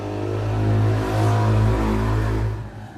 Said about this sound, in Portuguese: A moto, gente.